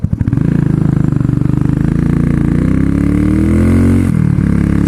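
A motorcycle engine with ignition trouble idles, then revs up loud and close, its pitch climbing steadily over several seconds before dipping briefly near the end.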